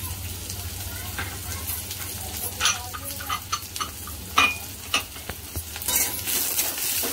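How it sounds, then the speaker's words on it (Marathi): Ten or twelve green chillies sizzle and are stirred in a pan for cashew chicken masala, with crackling frying, spoon scrapes and clinks against the pan, close and fairly loud, and faint voices in the background. "तर 10-12 मिरच्या आहेत, या सुद्धा टाकूया।"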